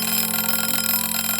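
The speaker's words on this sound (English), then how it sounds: "just as her alarm went off" A cartoon alarm clock goes off with a loud, steady, continuous ringing tone that fills the whole moment, with no voices.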